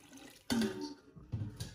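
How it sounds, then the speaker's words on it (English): Water pours into a cooking pot of yam and chicken in a short splashing burst, close and fairly soft, fading and then returning briefly. "I'm going to add my water now."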